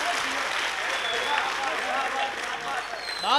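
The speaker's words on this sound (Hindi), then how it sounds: "जरा एक बार भरपूर तालियां दीजिए जरा।" Audience applause at a mushaira in Pant Nagar, steady dense clapping from a crowd filling the space, with a voice briefly rising near the end.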